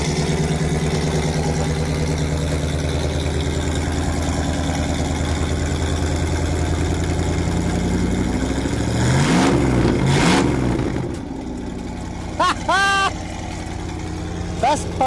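A Rolls Royce donk limo's 6.8 liter V8 idles with a deep, steady rumble, then revs in two quick, loud blips before settling back. Brief voices follow.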